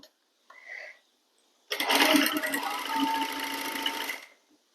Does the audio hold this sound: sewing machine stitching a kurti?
yes